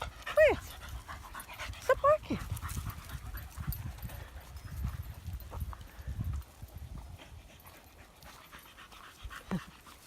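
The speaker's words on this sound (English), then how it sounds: "She's barking at Phoebe." A dog named Freya barks in short bursts near the start and again around two seconds, outdoors in woods, with people talking and scuffling movement around her.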